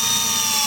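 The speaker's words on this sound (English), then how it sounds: "I'm just pre-drilling some holes around there" A drill bores pilot holes into the window frame of a steel shipping container, giving a steady, close, continuous motor whine with no pauses across the short span.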